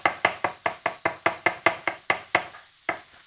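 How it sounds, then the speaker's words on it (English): Kitchen knife thinly slicing an onion on a cutting board for sliders: about a dozen crisp, evenly spaced chops close up, slowing into a final cut after a short pause. "thin sliced onion"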